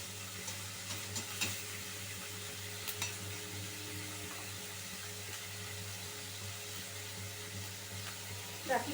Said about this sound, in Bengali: পেঁয়াজটাকে একটুখানি ব্রাউন করে ভেজে নেব